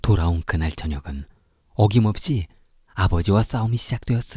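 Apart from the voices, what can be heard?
None of the usual background noises is heard.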